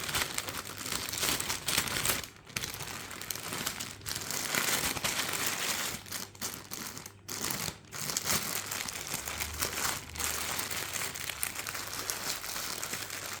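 A sheet of clear plastic notebook cover is gathered around chocolates, crinkling and crackling continuously up close for over ten seconds, with a few brief pauses in the rustling.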